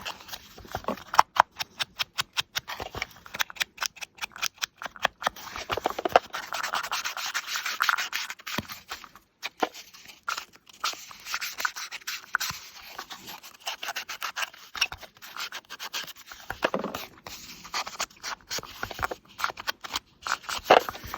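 Distress ink is rubbed onto the edges of a paper collage tag in quick, close, scratchy strokes, a dry brushing rhythm that comes in bursts with brief pauses, with no talking.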